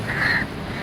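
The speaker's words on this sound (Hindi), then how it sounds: "पीछे जो मेरे कौवे हैं ना, ये मेरे जान नहीं छोड़ रहे हैं" A single short crow caw rings out once by a Karachi road, over steady traffic rumble.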